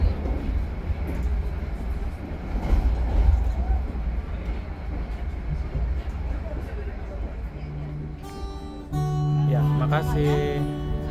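Gunungjati Panoramic passenger train rolling along the rails, a continuous rumble heard from on board, joined near the end by a long sustained horn; a voice speaks over the ride.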